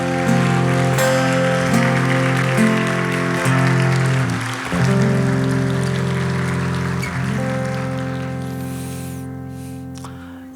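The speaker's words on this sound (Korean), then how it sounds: "큰 박수 올려드립시다" A congregation at a Korean Friday prayer meeting claps steadily as a dense wash of applause over sustained organ-like musical tones, continuous for several seconds and gradually fading toward the end.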